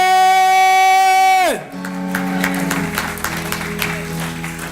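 A church congregation breaks into applause and cheering at a sermon, a bright sustained tone cutting off into a dense wash of clapping and crowd noise that carries on for several seconds.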